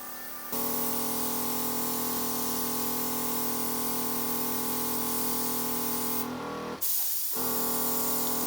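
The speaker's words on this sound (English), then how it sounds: "This is the first time I'm airbrushing." A TurboX Mini airbrush with a Mobius unit sprays paint in a steady, loud hiss that runs for several seconds, breaks off briefly, then resumes, with the compressor hum underneath.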